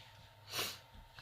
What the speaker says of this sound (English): Sorry for my sniffles.